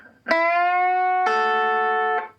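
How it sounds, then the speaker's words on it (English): Two electric guitar notes ring out together in a country-flavored double stop bend, then a second sustained double stop rings on with a twangy, slightly overdriven tone. "It's a nice little double stop bend, kind of country flavor."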